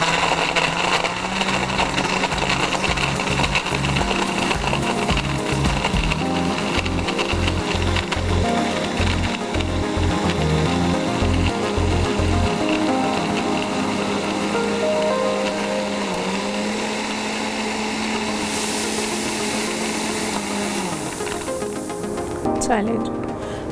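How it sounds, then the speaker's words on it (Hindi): A kitchen blender whirs through a peach mojito with ice, its motor a continuous loud drone with a rattling, pulsing churn early on, a pitch change midway and a brief clatter at the close. "ये अच्छा सा मैंने ब्लेंड कर लिया है।"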